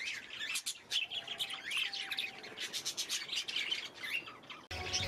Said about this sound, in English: when I went to visit a breeder and I brought home some cockatiels